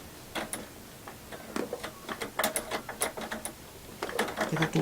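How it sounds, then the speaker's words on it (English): Domestic sewing machine stitching quilt block pieces at a quarter-inch seam, giving short bursts of rapid mechanical ticking and whirring that start and stop, close and moderately loud. "And I'm just going to sew."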